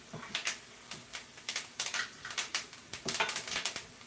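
Fresh thyme leaves are sautéed in a pan for Jamaican fry dumplings. A utensil taps and scrapes quickly and steadily against the pan, faint and close, with no talking.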